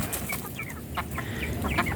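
Rhode Island Red chickens about two and a half months old cluck in short, repeated bursts close by, a series of soft, quick calls over low background noise.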